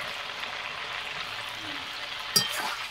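Cumin seeds and bay leaves fry in hot oil in a pan for chicken kosha curry, giving a steady hiss of sizzling with a brief sharp crackle near the end.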